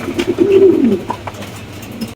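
A pair of large black homer pigeons gives a single soft, low coo close by, brief and alone in a quiet setting.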